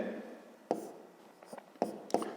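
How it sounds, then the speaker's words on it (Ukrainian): A pen writing coordinates for a fifth-grade maths exercise on paper: a few short, faint scratching strokes in quiet surroundings, spaced irregularly. "Ну що ж, пишемо тоді перше."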